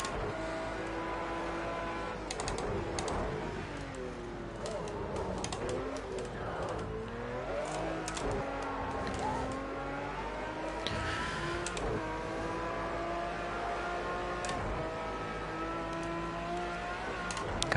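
An Audi race car in a racing game accelerating through its gears quickly, engine pitch repeatedly climbing and dropping with each shift, moderately loud and steady, with faint intermittent clicks and background noise.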